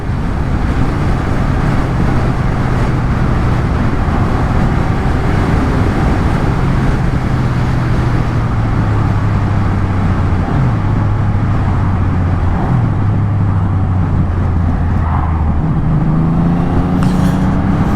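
A Yamaha XSR900 motorcycle rides past slow traffic, its engine droning loud and steady under heavy wind rush, the tone rising and falling in stepped gear changes as it accelerates.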